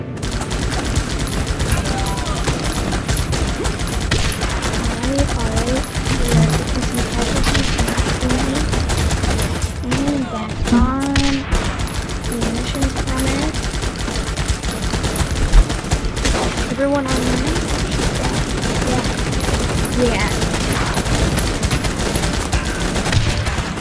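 Dense, continuous gunfire and machine-gun bursts from troops in the strategy game Guns Up, loud and sustained throughout with rapid overlapping shots, while someone talks over it at times.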